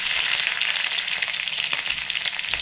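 Steady, loud sizzling of chopped chilies frying in hot oil for a sweet potato leaf dish, with constant crackle and a few brief pops and spatters, no voices.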